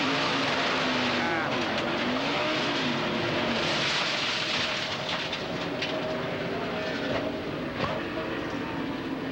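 Onboard sound from a NASCAR Cup Series stock car at Homestead-Miami Speedway, loud, continuous engine roar and rushing noise with scraping and impacts as it crashes into the wall, with radio chatter in the background.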